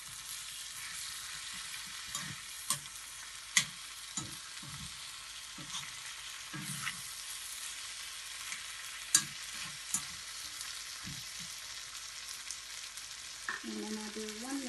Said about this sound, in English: mixing it well.